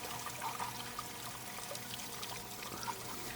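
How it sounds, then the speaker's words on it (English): Water pours from a refill pipe into a fountain in a continuous, fairly soft rushing flow with faint splashy trickles, steady throughout and without voices. "So I turn on the refill pipe,"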